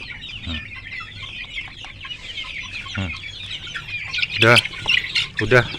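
Meat chickens squawk and cluck nearby in scattered bursts while being fed, growing louder and more agitated toward the end, over a low background murmur.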